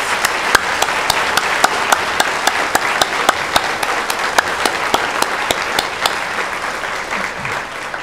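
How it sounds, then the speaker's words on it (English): An audience at a school heroes recognition evening gives a sustained round of applause, dense and steady, with a few sharp, louder individual claps standing out at a regular rhythm throughout. "would you please join me in one final round of applause to honor all of our heroes?"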